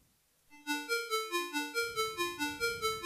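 A Wap Wap synth preset in Native Instruments Massive plays a bright, bouncy trap melody of short plucked notes that pulse in an even rhythm, clean and alone after a brief silence.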